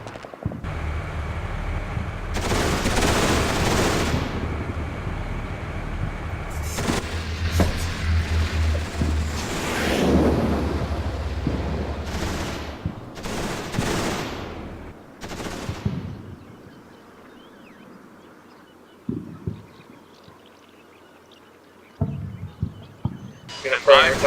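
Suppressive gunfire raking a ridge in Combat Mission Shock Force, long loud automatic bursts for the first quarter minute that then thin into scattered, fainter shots with quiet gaps and a final cluster of cracks.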